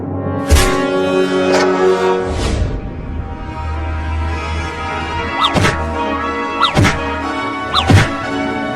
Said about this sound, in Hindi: देखो मम्मी, वो कमीनी बिलार दरवाजे को कैसे मार रही है, लगता है जैसे तोड़ ही देगी।